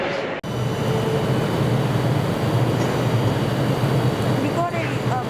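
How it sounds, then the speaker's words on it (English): A Class 156 diesel unit pulls into a Glasgow station with a loud, steady rumble that fills the platform, ending in a thin squeal of brakes. "We got a class 156 arriving into the station."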